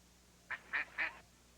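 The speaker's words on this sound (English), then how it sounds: "Why, it's a golden goose." A cartoon golden goose gives three short, nasal honks in quick succession, fairly faint over a quiet background hum.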